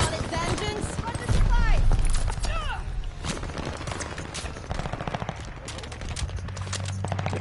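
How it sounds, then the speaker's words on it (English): A video game gun fired from the hip lets off sharp, rapid bursts of shots that come in clusters, close and punchy, while someone talks over them. "And I'm hip firing."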